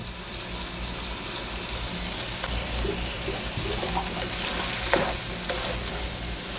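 Onions frying in a skillet while being stirred, a steady close sizzle with scraping stir sounds and small pops throughout, for a spicy beef and cucumber dish.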